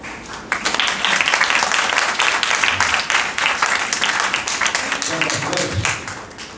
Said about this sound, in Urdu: جو بھائی خوش ہے نا وہ زور سے تالیاں بجائیں